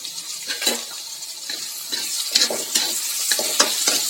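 Onion, tomato and green chili sizzle in a hot pan while a spoon stirs and scrapes them in repeated bursts, a bright frying hiss rising and falling close by with no talking.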